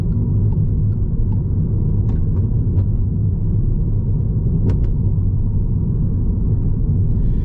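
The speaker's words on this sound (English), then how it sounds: "Lovely talky little engine this is." A 2020 Peugeot GT Line with an EAT8 automatic transmission drives along with a low, steady engine and road rumble filling the cabin, plus a few faint clicks over the constant drone.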